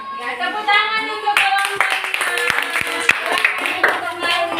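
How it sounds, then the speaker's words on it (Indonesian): A primary school class claps for a student group, a burst of scattered, uneven handclaps close by with children's voices and a teacher talking over it. "tepuk tangan untuk"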